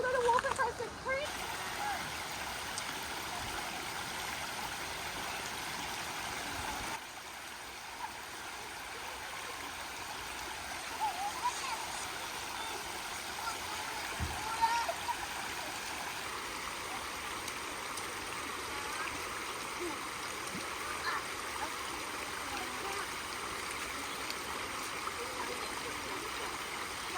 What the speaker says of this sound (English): Oh, we're gonna walk across the creek